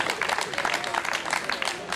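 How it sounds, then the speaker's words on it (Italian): Audience applause at an Italian bocce championship award ceremony in a beer hall, a crowd clapping with rapid uneven claps, moderately loud, mixed with voices talking in the room. "e un applauso pure a loro"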